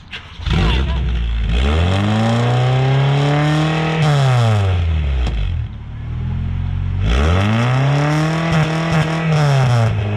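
A small offroad vehicle engine revs up and down loudly in two long sweeps, whining higher then dropping, with rattling clatter between the revs.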